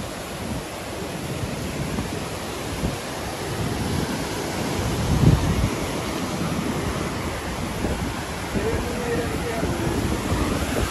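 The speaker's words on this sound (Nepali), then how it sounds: "यो हो नि त झर्ना" A waterfall on a mountain trail near Tatopani in Nepal's Mustang region roars with steady, dense rushing water, close and continuous throughout, with a brief bump partway through.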